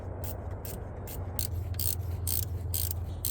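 A gear wrench ratchets on alternator mounting bolts in a driveway car repair, giving a quick run of crisp clicking bursts close to the microphone over a low background hum.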